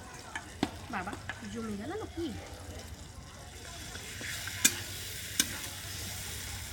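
Marinated mutton pieces hitting hot oil in a pan, giving a steady low sizzle with scattered stirring scrapes and a couple of sharp clinks, heard alongside a voice talking.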